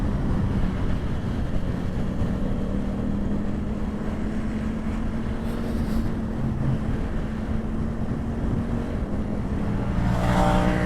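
A loud, steady engine drone runs throughout with a low sustained hum and rushing wind noise, a stock Ducati V4 motorcycle cruising at speed close to the microphone.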